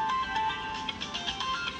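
A phone ringtone plays continuously, a bright repeating electronic melody at moderate volume with no voices over it.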